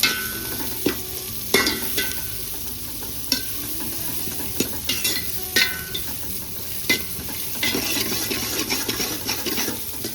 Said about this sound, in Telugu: ఉల్లిపాయ అంతా మనకు చక్కగా వేగింది కదండి నూనెలో.